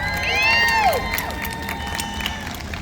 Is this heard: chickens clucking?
no